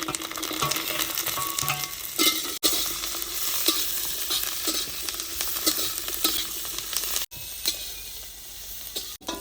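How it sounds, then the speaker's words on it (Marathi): Garlic roasting in oil in a pan for a rustic Maharashtrian masvadi, with steady close sizzling and frying crackle broken by scraping stirring strokes, ongoing with a few brief gaps and no talking. "आपण आता थोडं लसणासाठी थोडं तेल वापरत आहे आता आपण लसूण भाजून घेत आहे"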